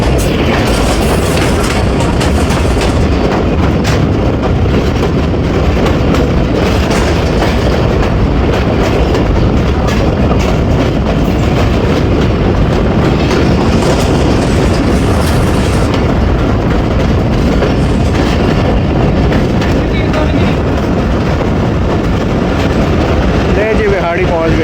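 The 38 Down Baba Fareed Express, running hours late, approaches Bihari railway station in the evening: a loud, continuous rumble with rhythmic wheel clatter throughout, heard from on board, with a voice talking over it at points.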